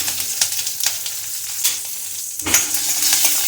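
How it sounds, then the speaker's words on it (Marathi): Sprouts sautéing in oil in a pan give a steady close sizzle with scattered crackles and a louder burst of spitting near the end, with no voices over it. "जरा असं तेल घातलेलं आहे मी तर आपण याच्यामध्ये स्प्राऊट परतून घेऊया"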